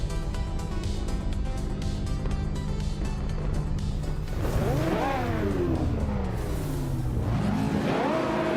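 Race cars, with a 2015 Mercedes-Benz on pole, hum at the start of the Berlin E-Prix track, a steady engine drone under music, then a car whooshes past with swooping pitch sweeps, followed by another rising pass.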